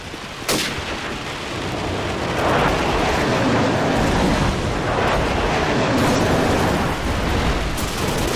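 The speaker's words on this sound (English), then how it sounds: "Friendly airstrike on the way." Airstrike explosions in Call of Duty 4 on the rainy Downpour map during a hardcore team deathmatch: a sharp initial blast followed by a long, heavy rumbling roll of overlapping booms that stays loud for several seconds.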